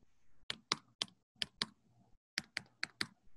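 Sharp taps on a tablet touchscreen with an eraser tool active, landing as about ten crisp clicks in uneven bursts, close and fairly quiet, with no talking.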